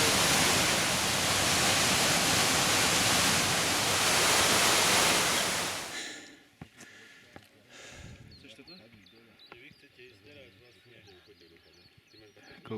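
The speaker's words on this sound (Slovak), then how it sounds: "Vstúpame do vodopádu." Loud, broad roar of a mountain waterfall on a hike in the Roháče range fills the first half, then drops away abruptly to quieter sounds with people talking.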